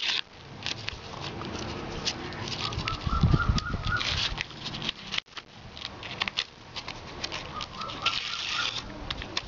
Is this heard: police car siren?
no